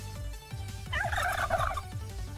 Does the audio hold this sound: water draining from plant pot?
no